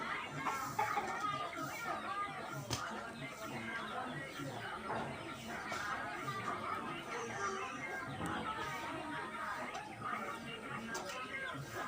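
Local chickens in a rural Assam backyard cluck and call softly in the background while people talk over them throughout, the birds faint and scattered.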